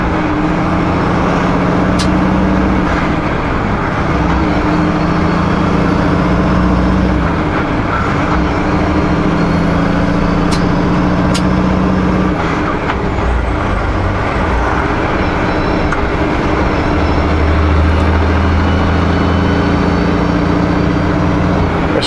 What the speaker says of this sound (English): Guess the tractor just came to the gas station to get fuel.